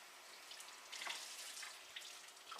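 Soft, steady trickle of tap water running onto a paper towel at a sink, close by and quiet, with slight splashy variations and no voices.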